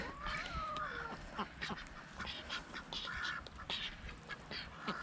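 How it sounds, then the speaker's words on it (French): Ducks quack and call near a small nesting house in a backyard poultry yard during mating, with repeated short, nasal calls at a soft, somewhat distant level. "vous pouvez assister à la reproduction des canards"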